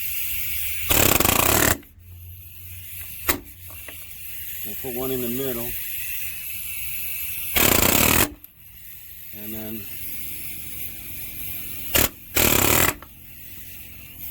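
A pneumatic nailer drives nails into composite deck boards, firing a few times with sharp bursts of hissing air and snapping clicks, separated by pauses while a person speaks.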